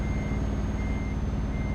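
A truck backs up in Euro Truck Simulator 2, its reverse alarm sounding a steady beep over a heavy, droning engine, loud and close throughout.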